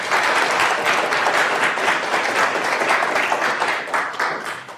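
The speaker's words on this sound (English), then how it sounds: "So if we can give them a hand of applause" Audience applause at a conference opening session, dense sustained clapping from a crowd filling the room, loud and steady before tapering slightly at the end.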